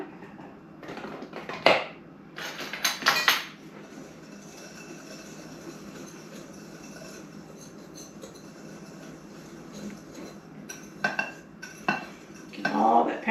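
A spoon clinks and scrapes in a bowl while paprika seasoning blend is mixed, in short bursts of stirring separated by quieter pauses.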